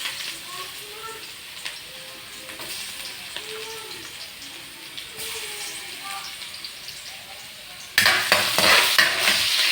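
Garlic sautés in a kawali for calderetang buto-buto, a close frying sizzle with stirring scrapes under a voice, then a sudden louder burst of sizzling toward the end.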